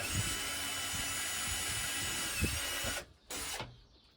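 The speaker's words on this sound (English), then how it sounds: "Drilling and banging." Steady, loud power-drill whine during campervan kitchen building runs continuously, then cuts out briefly twice near the end with a short burst between; no voices.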